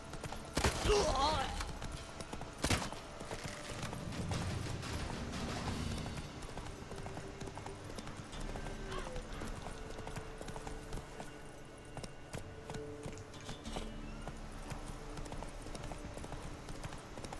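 Roach, the horse in The Witcher 3, galloping: a steady, rapid clip-clop of hooves at moderate distance under game music and ambience, with a brief voice near the start.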